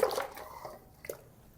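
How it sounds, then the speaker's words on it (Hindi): Pig trotters are dropped into a pot of hot water, giving a soft splash and a few wet plops and drips, then a smaller splash a moment later, all close by. "तो अब ना हम इसमें डाल देते हैं ये पाए।"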